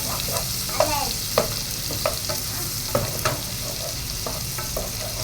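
Garlic frying in a pan while being stirred, a steady sizzle close by with several sharp scrapes of the utensil against the pan and no talking.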